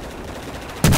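A single sharp, loud gunshot in Battlefield 4 bursts in near the end, preceded by a low background rumble of battle.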